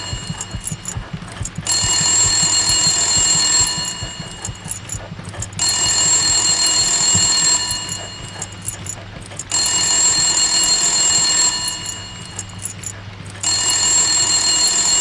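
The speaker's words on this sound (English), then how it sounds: "But I need to answer the phone" Electronic telephone ringing in the horror video game White Day inside a school building, in repeated bursts of about two seconds separated by short pauses over a low steady hum, with no talk.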